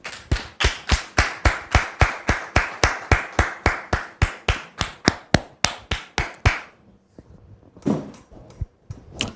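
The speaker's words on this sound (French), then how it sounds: "On reçoit le frère Adolphe maintenant sous vos applaudissements." Rhythmic, unison clapping from a studio audience welcoming a guest onto a French-language debate show: about twenty sharp, evenly spaced claps close by, fading into a quieter stretch with a few scattered claps at the end.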